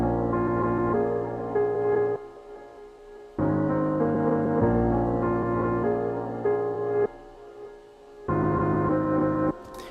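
A smooth trap soul sample plays through a Wow 2 filter plugin, its sustained chord phrases starting and stopping in blocks, with short silent gaps between them.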